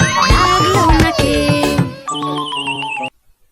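A horse's whinny, a falling neigh, rises out of a busy children's nursery rhyme mix of music and singing, followed by chiming tones before it cuts to silence.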